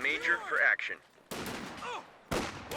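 Machine gun fire from two MG teams in the World War II strategy game Company of Heroes 2 crackles in short sharp bursts, mixed with other battle noises and a voice.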